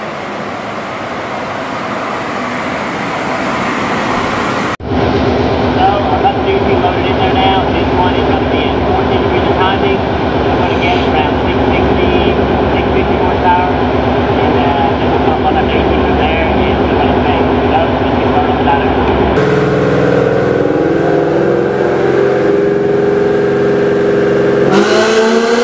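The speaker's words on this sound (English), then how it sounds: "Just finished the dyno pull on 14" A supercharged 2018 Ford Mustang GT with a Whipple supercharger revs hard on a dynamometer, holding at high speed, a dense roaring drone with a sharp jump in pitch near the start and a shift near the end.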